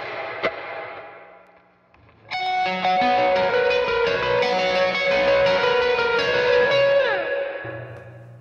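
An electric guitar plays a sustained phrase through heavy dotted-eighth delay and reverb, with repeating echoes trailing each note after a quiet, faint opening pluck.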